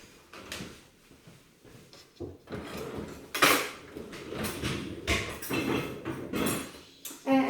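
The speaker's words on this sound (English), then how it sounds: "so I'll put out these cups right now" Cups are set down on a kitchen counter with scattered ceramic clinks and knocks at an irregular rhythm, close by and moderately loud, amid faint background movement.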